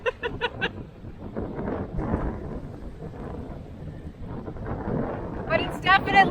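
Strong gusty wind at the Great Salt Lake State Park marina buffets the microphone in low, rumbling surges, with voices and brief chirpy sounds near the start and end.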